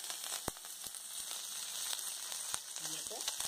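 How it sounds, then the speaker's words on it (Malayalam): Mustard seeds, dried red chilies and curry leaves frying in hot oil for a Kerala pumpkin sambar tempering, giving a soft continuous sizzle with scattered sharp pops and crackles, fairly quiet and close. "കടുക് പൊട്ടിത്തുടങ്ങി അതിൽ കുറച്ച് ഉണക്കമുളകിടുക, കറിവേപ്പില ഇടുക."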